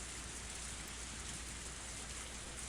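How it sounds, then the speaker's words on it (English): Intense rain pours down steadily outdoors near a parked car, a dense, even hiss of drops on surfaces filling the whole stretch with no other sounds. "The rain was still pretty intense."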